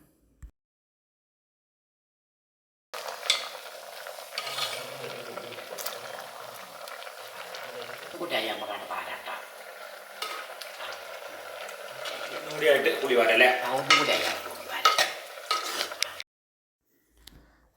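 A stem and pumpkin curry in a pot on the stove, with occasional scraping and clinking as it is stirred over a soft bubbling simmer. It runs between silent gaps at the start and end, with no talk.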